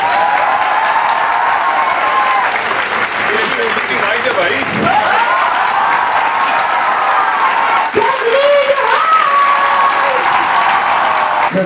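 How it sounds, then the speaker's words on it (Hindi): An audience at a guest conversation event gives sustained, loud applause for a woman guest, a thick continuous roar of clapping with scattered cheers while someone speaks briefly over it. "मैडम के लिए जोरदार तालियां यार"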